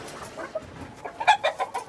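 Chickens clucking in short bursts on a farm, several close calls over a soft background, no talk.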